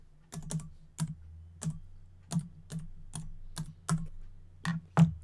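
Separate, crisp clicks come from a clicky computer keyboard, about a dozen keystrokes spaced unevenly and heard close up in a quiet room with no talking.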